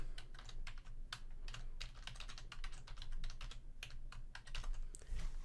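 Rapid keystrokes on a computer keyboard while a temporary password is entered during Windows Server 2019 setup, a steady run of close, crisp clicks over a low hum with no talking.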